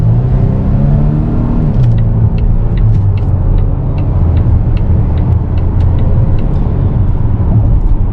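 2022 Volvo XC90 T6 Momentum SUV pulling out into traffic, a steady close engine drone and low road rumble building under acceleration, with faint ticking from the cabin and no talk.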